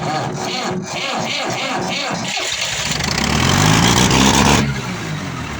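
On a winter morning in Wisconsin, a Leyland tractor engine cold-starts: several loud, rhythmic cranking pulses, then the engine catches and roars up to a rough, rumbling idle close by.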